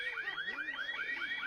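A burglar alarm in the video game The Sims 4 gives a rapid, repeating electronic whoop. Rising sweeps cycle about every third of a second at moderate, steady loudness.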